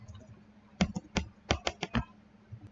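Figures are typed on a computer keyboard while filling in a tax calculation: about eight distinct, close keystrokes in a loose rhythm, each a crisp tap, with quiet pauses and no voices.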